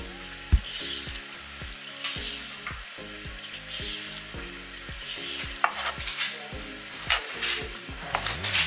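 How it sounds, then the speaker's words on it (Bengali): Vegetables being cut for a stew on a board give scattered, irregular knife knocks and scrapes, set against soft background music with no voices. "অ্যাকচুয়ালি সবজিগুলো ততক্ষণ কেটে নিই।"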